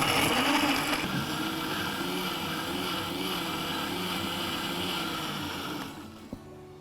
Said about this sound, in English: we're going to pop the lid on and we're going to blend